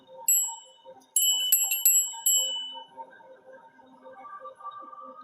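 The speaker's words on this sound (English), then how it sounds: "I'm gonna ring the Stolas bell." A small bell rings sharply several times in quick bursts early on, bright and close, before fading into quiet background sounds.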